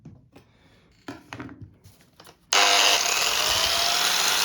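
An angle grinder sharpening a wetted knife: a few seconds of scraping and handling noises, then the grinder switches on abruptly and runs with a loud, harsh, sustained whine to the end.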